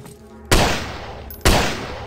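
Two loud, sharp pistol shots in the horror video game Malevolent Mansion of Evil, about a second apart, each with a decaying echo over a low ambient drone.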